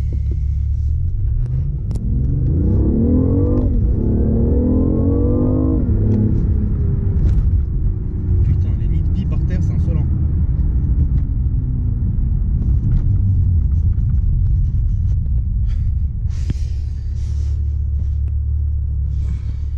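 A BMW i8 sports car engine revs and accelerates with rising harmonic tones over a deep steady rumble, then settles into a continuous loud drone.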